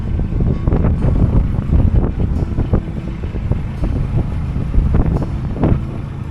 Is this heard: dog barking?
no